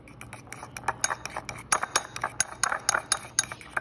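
Spoon or utensil stirring a honey face mask in a bowl, giving a quick run of close, bright clinks and scrapes against the bowl with no talk.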